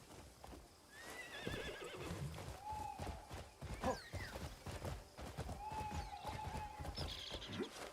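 An armored horse in the Crimson Desert video game whinnies and neighs over steady clip-clopping hooves as it runs, with game music and effects layered underneath.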